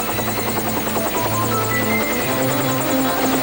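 A Chopper 4 helicopter flies steadily and loudly, its rotor thump and turbine drone continuous throughout with no one speaking.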